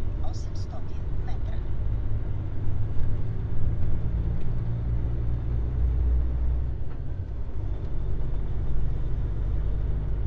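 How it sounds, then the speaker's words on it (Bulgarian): A truck rolls through the middle of a roundabout, its steady low engine rumble and road noise droning continuously while people talk over it inside the cab. "Вижте как се минава през средата на кръглото с камиона."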